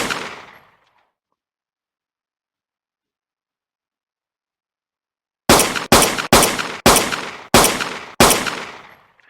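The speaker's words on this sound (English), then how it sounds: "Now I want to test some guns, so I'm going to kill some zombies to do so" Guns firing at zombies in a student-made video game: a burst of gunfire fading out, a long silence, then six sharp, evenly spaced loud shots in quick succession.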